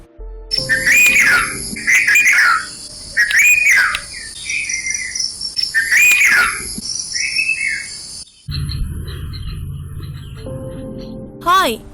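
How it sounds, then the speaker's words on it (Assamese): A bulbul sings repeated short, liquid whistled phrases in a steady rhythm over a constant insect drone, clear and near, before the song stops and a brief rising call closes it. "হয়, এইটো বুলবুলি চৰাই মাত।"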